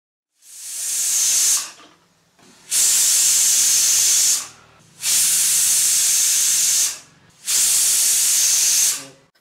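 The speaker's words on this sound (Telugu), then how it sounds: "ప్రెషర్ కుక్కర్ను స్టవ్ మీద ఉంచి స్టవ్ ఆన్ చేసుకోవాలి ఫోర్ విజిల్స్ వచ్చేంత వరకు ఈ టమాటో పీసెస్ని కుక్ చేసుకోవాలి" Four loud bursts of pressure cooker whistles hissing steam on a stove while cooking tomatoes, each lasting one to two seconds, separated by short pauses, close by and alone.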